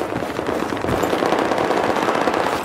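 An enemy machine gun in Battlefield 4 fires a continuous rapid rattle of shots, dense and fairly loud throughout, with no talk over it.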